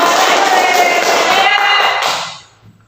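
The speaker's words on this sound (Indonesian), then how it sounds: "Beri tepuk tangan" A high-school economics class claps together in the classroom, a loud, dense burst of hands that holds steady for about two seconds and then quickly dies away.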